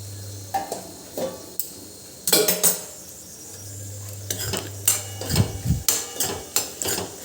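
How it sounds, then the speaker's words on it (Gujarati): A spoon stirs a capsicum and besan curry in a pan, with irregular metallic scrapes and clinks that quicken into a run of repeated knocks toward the end. "આવી રીતે હલાવી દેવાનું એક વખત અને કેપ્સિકમ જો આપણા ચડી ગયા છે કે નહીં એ ચેક કરી લેવાનું।"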